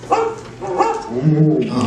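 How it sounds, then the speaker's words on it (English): A small animatronic dog barks and yips a few times, loud and close, in Disney's Carousel of Progress stage show at Walt Disney World's Magic Kingdom, with faint background noise. "Don't worry, Rover. She didn't mean real dogs."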